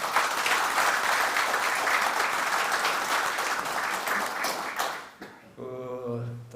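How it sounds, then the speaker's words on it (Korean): Audience applause at a defence industry society breakfast forum, sustained clapping from a roomful of people for about five seconds that fades out, followed by a voice beginning to speak. "우리 이 대표님께 큰 박수 부탁드립니다"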